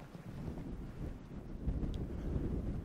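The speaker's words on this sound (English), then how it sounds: "trying to keep out of the way of the wind, because it is very windy here" Strong wind buffets the microphone among sheltering rocks on the Cornish coast. The rumble is low, loud and gusty and lasts the whole clip, with no voices.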